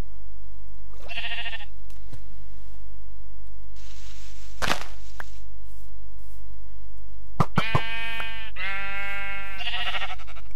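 Sheep in a modded video game bleating loudly and close, a short bleat early, then two long wavering bleats near the end, with sharp game thuds and a whooshing burst between and no talking.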